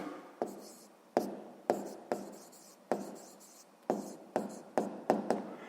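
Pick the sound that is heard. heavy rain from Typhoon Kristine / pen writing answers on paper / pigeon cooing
pen writing answers on paper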